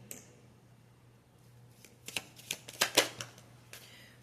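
Tarot cards being shuffled by hand, a cluster of sharp close riffling clicks and snaps that builds after a quiet start, with no talking.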